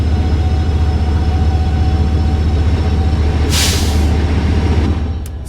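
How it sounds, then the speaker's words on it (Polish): An EMD F125 diesel locomotive with a 20-cylinder engine, in Train Sim World 5, drones steadily while a short, bright burst of compressed-air hiss rises midway and then cuts off near the end. "Syk sprężonego powietrza,"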